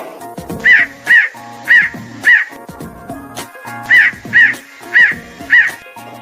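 Cartoon crow giving a string of loud, close, harsh caws in two groups of four, evenly spaced and alone.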